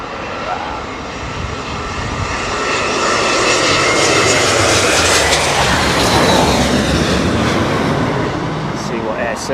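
Engines of an Air Serbia airliner at London Heathrow Airport roar loud and close, swelling into a broad sustained rush that builds through the middle as the aircraft passes in stormy weather.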